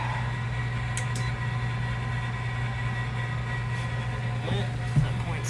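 Trane furnace switched on and running: a steady low hum with a constant mid-pitched drone and faint ticks, one small click near the end, no talking.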